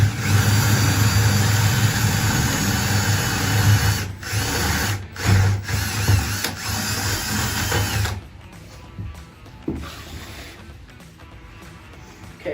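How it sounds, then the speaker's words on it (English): A power drill bores a hole through a leg hole into the wooden frame of a homemade cornhole board, a loud steady whine for about eight seconds before it spins down into quieter rattling and handling noise. "now we're just going to be able to drill the hole, right, using the leg hole as a guide to drill into the frame"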